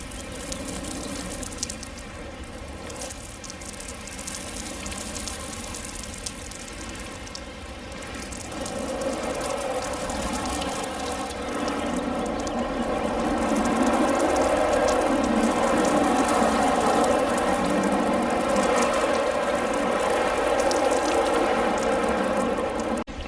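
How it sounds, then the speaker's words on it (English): Garden hose spraying water onto a Lexus GS350 during detailing after a graphene coating, a continuous hissing rush that swells louder midway and stays steady, with no talking. "now I'm going to go get the hose and see what this stuff looks like"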